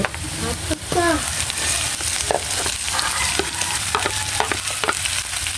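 Potatoes sizzling in a frying pan with oil, a constant close crackle and hiss with occasional stirring clatters, a brief voice at the start.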